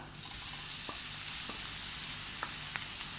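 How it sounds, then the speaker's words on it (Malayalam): Chopped tomatoes hit spice powders frying in a pan for a Chettinad egg curry, giving a steady, close sizzle with a few sharp stirring clicks and no voices. "ഇനി ഇതിലേക്ക് നമ്മൾ അരിഞ്ഞു വെച്ചിട്ടുള്ള തക്കാളി ചേർത്ത് കൊടുക്കുക."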